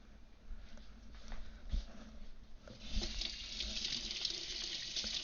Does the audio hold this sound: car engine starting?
no